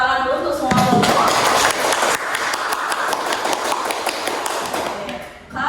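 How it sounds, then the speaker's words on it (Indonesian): Students in a classroom clap together for a group project session, a busy patter of claps and taps lasting several seconds, mixed with thumps and overlapping voices before it fades out. "tepuk tangan dulu untuk semua kelompok"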